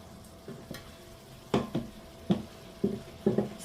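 A spoon scrapes and stirs spinach and parmesan risotto in a pan as broth is added, giving several distinct scraping strokes over a soft, steady sizzle, close by and with no voices.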